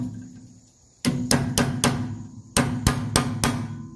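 A hammer drives a punch while new ATE brake lines are fitted on a 1984 Mercedes 300SD. Two close, loud bursts of four sharp metallic strikes ring out with brief pauses between them.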